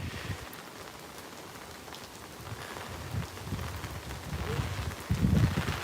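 Steady rain falls outdoors at a bonsai open-air museum in Omiya, Japan, a continuous close hiss of drops on surfaces with heavier patter swelling near the end.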